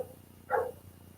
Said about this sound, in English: It's okay if the dog barks in our videos.